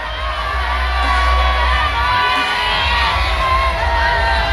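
Arena audience at the finals of an international tournament screaming, whooping and cheering loudly and continuously, a dense roar of many voices with shrill yells rising above it.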